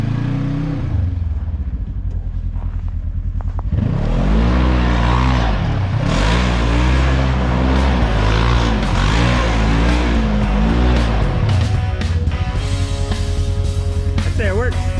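A Saab 900S is driven after a front differential rebuild, and its engine revs up and down with a loud droning hum. Wind buffets and a voice speaks over it.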